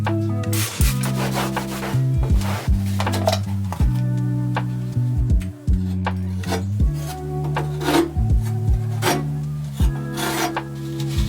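A tool spreads spackle across a wall in repeated rhythmic scraping strokes, each one a close, rasping smear with brief pauses between passes.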